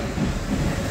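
A local passenger train passes at a station, its steady rumble and rolling wheel noise filling the brief moment without any voices.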